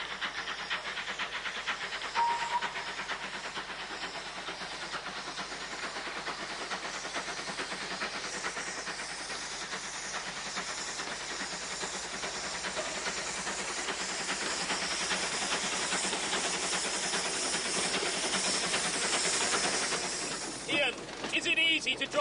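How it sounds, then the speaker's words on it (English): Baxter, a 115-year-old steam tank engine, hissing steam in a long continuous rush that swells slightly louder toward the end before cutting off, fairly close and steady. "It's called Baxter. It's a tank engine."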